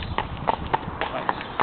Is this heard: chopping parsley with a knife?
no